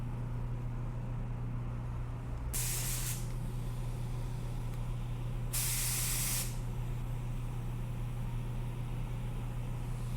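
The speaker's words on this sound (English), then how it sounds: "I ran lacquer thinner through it because you got to do that with a new gun" A new spray gun being flushed with lacquer thinner gives two sharp, loud bursts of hissing spray, each lasting about a second, over a steady low background hum.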